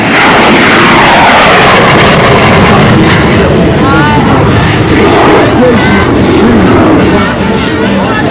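A MiG-17 jet roars loudly overhead at a 2024 California airshow, its engine noise sustained and dominant throughout with a rising and falling whine as it passes, crowd faintly underneath.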